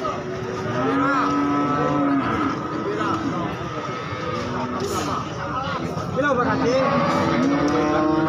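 A breeding cow at the Pon Jaken cattle market gives several long, drawn-out moos, loud and close, over a steady background of crowd babble and market noise.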